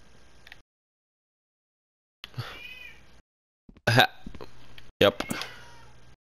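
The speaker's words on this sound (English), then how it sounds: "Cat's back at the door, he's gonna meow again" A cat meows at a door, giving several short, close calls in separate bursts with silent gaps between them, and a person speaks briefly.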